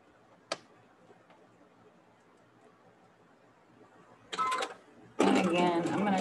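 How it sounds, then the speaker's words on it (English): A sewing machine chain-stitches rows of fabric. After a quiet stretch with a single sharp click, it gives a short loud whirring burst, pauses briefly, then runs again in a sustained, close rattle. "Now we're just gonna sew the third part to these rows."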